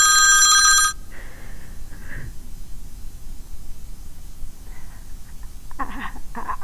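A telephone bell rings loudly and alone for about a second at the start, then cuts off into quiet line hiss with faint clicks and handling noise as the call is picked up.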